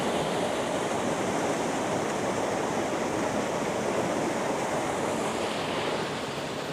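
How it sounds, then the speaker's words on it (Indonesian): A river in Indonesia, near a historic Ngawonggo bathing site, flows in a steady, dense rush of water that fills the whole clip with continuous broadband noise, fairly close and unbroken, with no voices. "Di sini ada aliran air nih, sungai nih"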